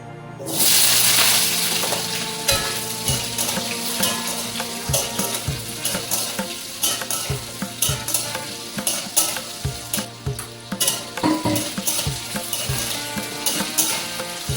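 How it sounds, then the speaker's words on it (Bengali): Cut potatoes fry in a pan for a vegetarian aloo potol dish in Kolkata, a loud steady sizzle with frequent sharp scrapes and knocks from stirring close by, no voices. "আলুটা ভেজে নিচ্ছি।"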